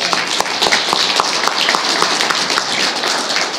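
A round of applause fills a city council meeting room, with dense, steady clapping from many people throughout and sharp claps standing out near the front.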